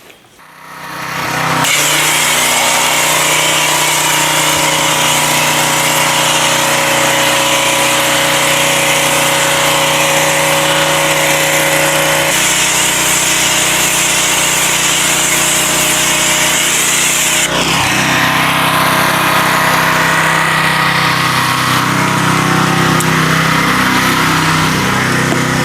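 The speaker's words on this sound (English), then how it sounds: "I'm going to come back with this pressure washer surface cleaner and clean off the surface" Pressure washer surface cleaner running over pavers, a loud, steady, continuous roar and hiss that starts abruptly and holds throughout, with a slight change in tone partway through.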